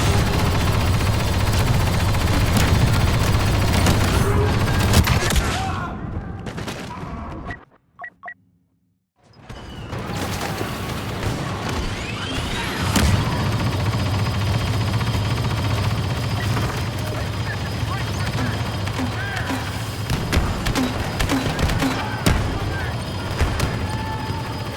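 Blaster fire crackles almost continuously on Hoth in Star Wars Battlefront II, a dense battle mix of rapid shots and bursts that drops to silence briefly before resuming, with voices talking over it.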